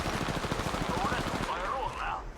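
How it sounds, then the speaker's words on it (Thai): Rapid bursts of automatic gunfire from Apex Legends Mobile battle-royale combat, a quick regular rattle that fills the first half and then gives way to fainter game effects, with a voice talking over it. "อีกหนึ่งทีม กำลังยิง"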